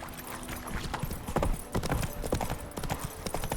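A horse gallops close and loud in The Witcher 3, with quick, rhythmic hoofbeats that thud on for a few seconds.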